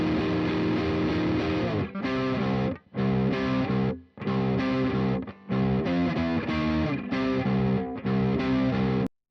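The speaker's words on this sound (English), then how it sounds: "This is darker, less gain and distortion type of sound." Heavily distorted electric guitars, in a darker tone with less gain, chug out a rhythmic riff in loud bursts with short pauses between phrases, the chords ringing full and sustained.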